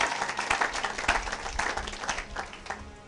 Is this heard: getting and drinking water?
no